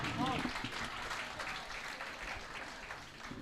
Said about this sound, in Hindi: इन सभी कवियों के सम्मान में एक बार जोरदार तालियां बजाएं